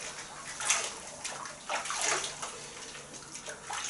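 A badger shaving brush is rinsed under running water, a soft steady splashing and trickling with a few louder sloshes, close and fairly quiet.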